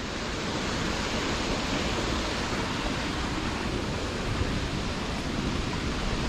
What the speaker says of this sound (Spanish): Es aquí donde nace la cascada de la Poza del Perol